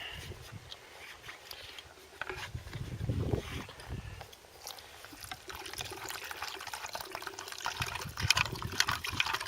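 Water poured from a canteen into a canteen cup outdoors during a field meal, a gurgling, trickling pour that swells and splashes unevenly over several seconds, close by with faint background rustle.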